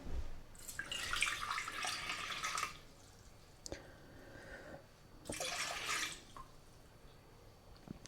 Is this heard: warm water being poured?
yes